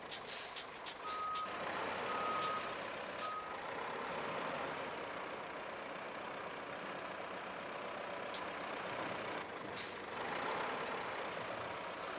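Truck in the Roadcraft video game reversing to park amid logging work, with steady reversing beeps repeating over a continuous engine drone at moderate distance; no talk.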